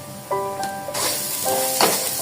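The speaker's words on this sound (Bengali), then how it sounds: "এবার সব কিছু আমি সুন্দর করে নাড়াচাড়া দিব যতক্ষণ না এটা চালগুলো ভাজা ভাজা হয়" Atop rice for khichuri fries with chili, coriander and cumin powder while being stirred in a pan: a soft, steady sizzle with scraping bursts and a few tonal ringing notes over it.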